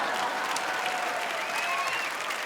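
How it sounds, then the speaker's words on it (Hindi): Awards show crowd at the Zee Cine Awards gives loud, dense, sustained applause that fills the hall evenly, with faint cheering woven through. "जोरदार तालियां चंकी के लिए।"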